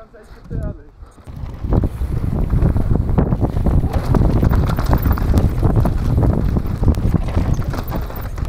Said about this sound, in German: Der Wind macht das Ganze echt gefährlich.